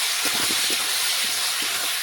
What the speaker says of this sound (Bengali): এখন দিয়ে দিচ্ছি আগে থেকে মশলা মাখিয়ে রেখেছিলাম চিকেন, সেই চিকেনটা ঢেলে দিলাম।